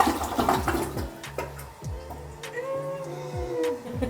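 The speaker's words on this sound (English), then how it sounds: "we gotta do the flush test" A hotel toilet in Las Vegas flushes, with rushing, gurgling water that swirls and then settles into a refilling trickle, heard nearby with no talking.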